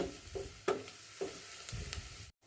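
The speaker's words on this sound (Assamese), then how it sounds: "অলপ টাইম মছলাখিনি ভাজি কৰি থাকিম।" Spice masala of cumin, coriander and turmeric powders frying in a pan for an eel fish curry, with a steady low sizzle and a few soft scraping stirs, ending in a brief silence.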